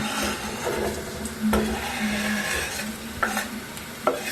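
Garlic, chilies and onion sauté in extra virgin olive oil with a continuous close sizzle, broken by several sharp scrapes and clicks as a spoon stirs the pan.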